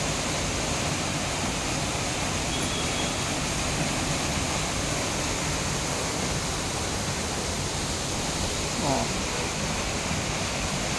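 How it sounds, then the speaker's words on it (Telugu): Masava waterfall, near Tirupati, pours from a great height onto rock steps, giving a steady, dense roar of falling water that stays broad and unbroken throughout. "మాసావా వాటర్ ఫాల్స్ అండి, ఇది చాలా బ్యూటిఫుల్ ఉంది. చాలా హైట్ నుంచి పడుతున్నాయి, స్టెప్లకి పడుతుంది."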